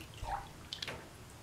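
Water drips in a bathtub: a couple of distinct close plinks and small splashes against a quiet background, with no talking.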